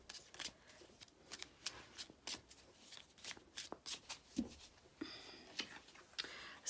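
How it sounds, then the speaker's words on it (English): Tarot cards are shuffled by hand in quick riffling bursts, a close, crisp flutter of card edges repeating in uneven rhythm over several seconds, quiet and alone. "sometimes I tend to shuffle for quite a while"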